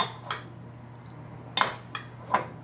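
A utensil stirs roasted beets with vinaigrette in a bowl, giving a few sharp clinks and scrapes at irregular intervals over a low steady hum, close and moderately loud, with no talking.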